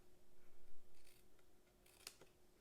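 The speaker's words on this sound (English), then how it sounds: "And we're going to come in and angle cut that tab." Scissors cut a cardstock box tab at an angle, producing a few faint, close snips against a quiet room with a steady low hum.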